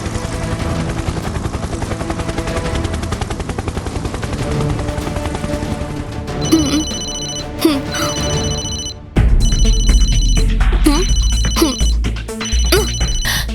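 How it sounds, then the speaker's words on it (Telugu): A telephone bell rings loudly in repeated bursts over a dense, busy background, which drops out briefly before the ringing resumes even louder. "ఈ ఫోన్కి ఎవరో కాల్ చేస్తున్నారు."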